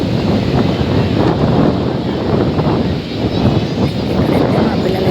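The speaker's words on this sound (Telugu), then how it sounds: "అలల సౌండ్కి ఆ గాలి సౌండ్కి" Wind and breaking sea waves at crowded Bapatla beach make a loud, continuous roar with heavy wind buffeting on the microphone throughout.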